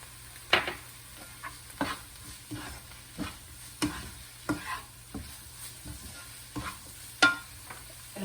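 Paneer butter masala sizzles softly in a pan as a spoon stirs it, with regular scraping knocks against the metal roughly every half second over a gentle bubbling hiss.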